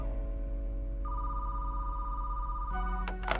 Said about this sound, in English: Mysterious phone call is made, over 50 years later.